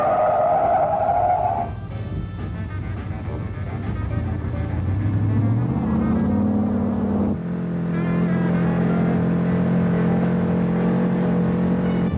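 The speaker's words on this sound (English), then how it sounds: "On this 70-mile-an-hour panic stop, the brakes were hot, pedal fade very noticeable, rear axle hop was prevalent" 1971 Ford Torino GT with a 429 Cobra Jet V8 making a 70 mph panic stop on hot, fading brakes with rear axle hop, a loud steady roar that drops in pitch as the car slows, then a lower settled drone.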